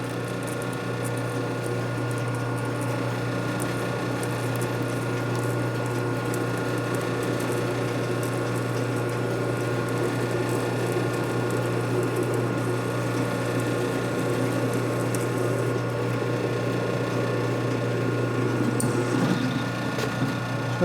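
A lathe in second gear cuts a part for a 1957 Harley panhead head conversion, producing a steady mechanical whine with a constant low hum and fine rattling, loud and unbroken throughout.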